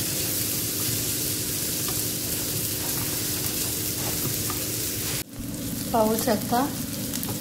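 Chopped onions frying in a pan until browned, a loud continuous sizzle close by, with a short voice and a few clinks of a utensil near the end.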